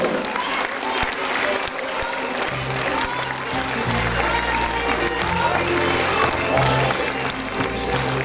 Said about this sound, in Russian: Аплодисменты нашим артистам еще раз